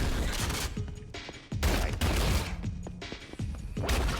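Loud, dense video game gunfire in dense repeated volleys with crashing impacts, filling the whole stretch with only brief dips between bursts.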